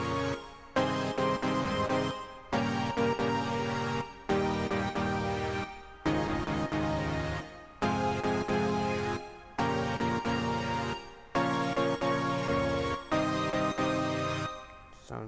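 Layered future bass synth chords programmed in GarageBand, a basic chord progression of bright stacked pads hitting in regular bars with pumping decays and short gaps, harsh and dense, with no voices.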